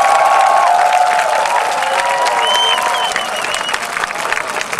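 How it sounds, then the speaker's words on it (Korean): Audience applause at a 2006 military unit entertainment show for soldiers, a broad crowd sound with clapping mixed with whistles and cheering, strong at first and gradually easing. "박수!"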